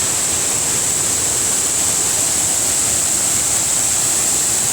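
Steady, roaring rush of falling water at Thi Lo Su waterfall in Thailand, loud and constant with a bright hiss on top, no voices over it.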